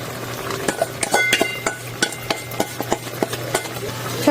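Fish curry is stirred in a pan: a utensil scrapes and clinks against the metal in an irregular rhythm of sharp taps over a low background hum, close and moderately loud.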